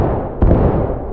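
A single booming musket volley goes off in War of Rights, one sharp, loud crack with a brief rumbling tail, rising over dense battlefield noise.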